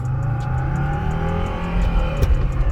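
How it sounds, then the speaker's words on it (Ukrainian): A 1999 Mercedes-Benz W210 E250 turbodiesel pulling away from a standstill up a hill toward a bend, its engine drone building steadily from inside the cabin with a brief shift-like dip near the end. "Зараз спробуємо стартанути від нуля до сотні, рухатись ми будемо он в ту горку і в поворот"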